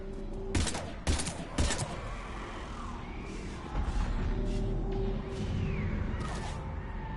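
Mass Effect 3 combat: three sharp, loud gunshot bursts early on, then rougher crashing and rumbling action sounds carrying on through the rest of the scene.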